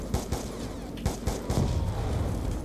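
Rapid automatic gunfire against zombies in the Call of Duty Black Ops 2 Zombies mode, a dense burst of repeated shots with sharp cracks standing out over a constant game din.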